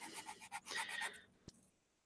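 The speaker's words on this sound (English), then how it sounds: "You're sanding when you can hear it." An edge is sanded by hand with a rhythmic series of close, rasping strokes that speed into a continuous scrape, then stop, followed by a single sharp tap.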